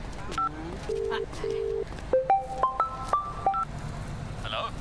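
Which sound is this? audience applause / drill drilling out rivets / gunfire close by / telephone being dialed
telephone being dialed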